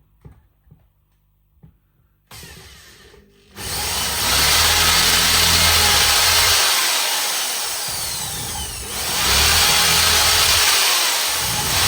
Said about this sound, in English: Let's drill through here.